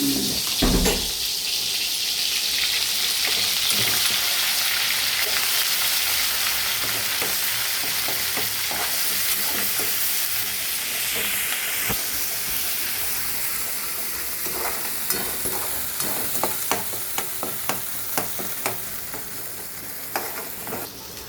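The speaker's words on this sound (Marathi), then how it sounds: "तेल गरम झालेले आहे ह्याच्यामध्ये मसाला घालू आपण आता" Ground black masala, garam masala, mutton masala, onion masala and red chilli hitting hot oil for a mutton dish give a loud, continuous sizzle with repeated stirring scrapes and spatula clicks throughout.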